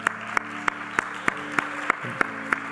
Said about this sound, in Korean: 우리 김주은 자매님 그리고 주은강 형제님, 우리 잠깐만 자리에서 일어나 주시면 저희가 온 마음을 다해서 환영하는 우리를 박수로 우리 환영하도록 하겠습니다